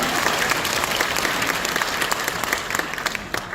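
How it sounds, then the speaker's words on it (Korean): A crowd at the opening ceremony of a Buddhist university choir's founding concert breaks into steady, full applause that carries through the whole moment. "다시 한번 박수 주세요."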